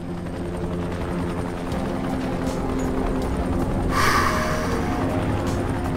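A helicopter in the Dying Light video game drones steadily with a loud, close rotor thrum that swells slightly partway through, continuous across the whole stretch.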